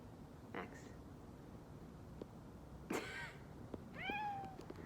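A cat meows a few times indoors, short and fairly near, over a low steady background hum.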